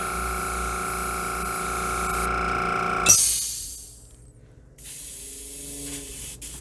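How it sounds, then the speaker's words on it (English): An airbrush being cleaned out sprays in a steady, loud hiss that builds to a sharp burst and then cuts off, followed by quieter handling noises. "Clean out my airbrush real quick"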